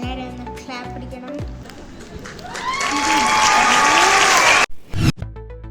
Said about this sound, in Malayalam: എല്ലാവരും ഒന്ന് ക്ലാപ്പ് പിടിക്കണം.